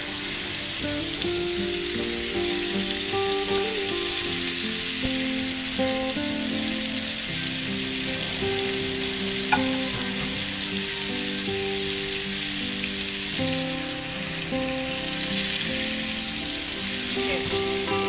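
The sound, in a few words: swordfish frying in butter with capers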